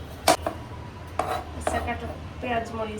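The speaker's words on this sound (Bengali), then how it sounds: "অনেকদিন পর পেঁয়াজ কাটতেছি হ্যাঁ?" Knife chopping onion on a board for homemade jhal muri: three or four distinct sharp chops spaced irregularly, close and moderately loud over faint room noise.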